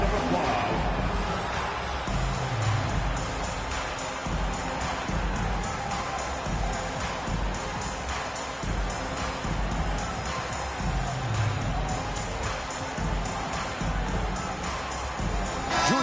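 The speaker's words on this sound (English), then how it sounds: "Please give a big round of applause" A virtual arena crowd in a PS5 basketball video game cheers and applauds: a dense, continuous roar of noise that holds steady throughout, with no clear speech on top.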